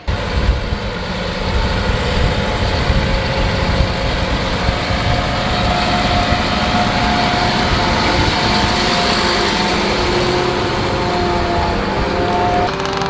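A Fendt tractor engine runs steadily while pre-ripping a deep field, a loud continuous diesel drone with a low rumble and a faint whine, holding even for the whole stretch with no talk.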